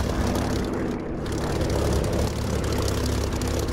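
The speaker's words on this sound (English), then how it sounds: "Nice, lovely sound," Propeller aircraft engine idling in the DCS flight simulator, a steady low droning hum with broadband rumble, loud and continuous throughout with no talking.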